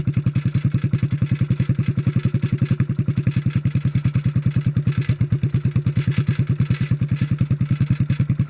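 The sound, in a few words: rattling loose baffle in a 1957 Bolens tractor muffler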